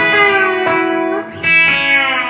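A B-bender electric guitar plays a lick on open strings, loud and close, with sustained notes, a brief dip and a fresh attack, and slight distortion, with no speech.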